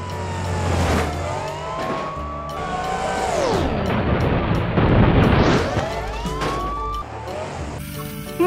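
A toy police car blares a loud electronic siren, wailing up and down in sweeping tones with electronic sound effects layered over it, continuous and close for several seconds.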